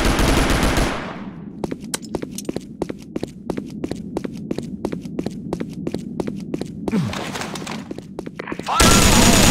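Rapid bursts of automatic gunfire from a video game shooter, a steady run of sharp shots rattling off in quick succession for several seconds, with a louder blast of noise at the start and end.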